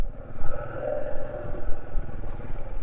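A motorcycle on a rough, broken mountain road between Nako and Kaza, its rear wheel skidding, makes a close, low engine rumble mixed with rattling clatter, with no talk.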